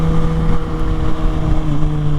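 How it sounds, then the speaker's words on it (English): A 2022 Kawasaki ZX-6R 636 sport bike being ridden, a loud steady engine drone with wind rush, heard close and continuous through the short stretch. "Such as like this one I'm riding on, 2022 Kawasaki ZX-6R"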